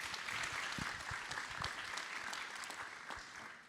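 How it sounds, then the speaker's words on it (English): Audience at a conference session on transport infrastructure claps together, a brief, fairly quiet wash of applause with a few sharper individual claps, heard alone without talk. "Round of applause."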